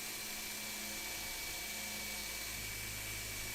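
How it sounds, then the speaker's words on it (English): A drill with a 3/4-inch Forstner bit whirs steadily through a wooden base piece, a constant high-pitched grinding hum that holds without pause. "So I'm going to use a 3/4 Forstner bit."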